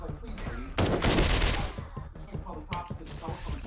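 Gunfire in the video game 7 Days to Die, with a loud burst of rapid shots that forms a dense volley in the middle, plus scattered sharper shots throughout and some voices underneath.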